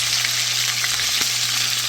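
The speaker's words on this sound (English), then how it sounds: "they are frying up fast" Pork chops sizzle and fry loudly in a pan, a dense continuous crackle with a low steady hum underneath, close by.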